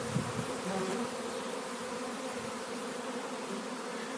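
A dense, continuous buzz of a full honey bee colony, young and old bees, swarming close by, steady and loud from start to finish.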